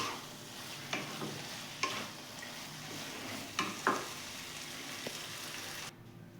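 A spoon stirs bori posto, poppy seed paste with lentil dumplings, mixed with chopped coriander in a pan over a gas flame, giving soft scraping strokes over a faint sizzle, and then the flame cuts off near the end.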